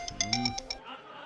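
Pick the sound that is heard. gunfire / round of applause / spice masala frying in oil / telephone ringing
telephone ringing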